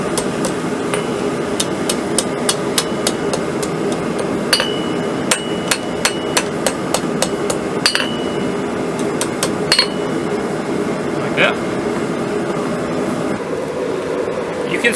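A blacksmith strikes hot steel with a hammer while forging the scroll end of a drive hook, giving sharp metallic ringing blows in uneven bursts and pauses over a steady loud background hum.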